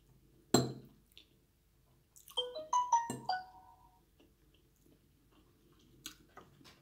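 A mobile phone chimes loudly with a bright melodic ringtone of several quick rising tones, after a sharp knock, in a quiet kitchen during a noodle-and-egg dinner, then faint clinks and rustles follow.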